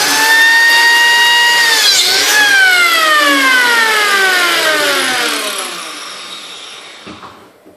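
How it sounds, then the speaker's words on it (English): A biscuit joiner whines loudly at full speed while making a plunge cut into drawer wood, its motor pitch dipping briefly as the blade bites, then winding down steadily and fading to silence. "I've made a nice plunge cut there."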